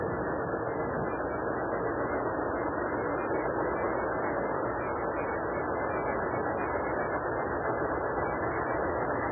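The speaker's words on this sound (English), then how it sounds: "Train's going to stop right here in front of us." A train rumbles in a steady, muffled, band-limited roar heard at a constant level throughout, with no distinct braking or stopping sound standing out.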